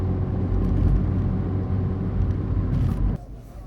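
A turbocharged 2013 Fiat 500 Abarth labors up a slight incline, its engine a low, steady droning rumble heard from inside the cabin that cuts off abruptly near the end, no one speaking.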